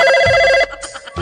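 A telephone ringback tone purrs loud and steady as an outgoing call to an airline customer care line connects, a bright repeating electronic ring that cuts out partway through and gives way to faint line noise.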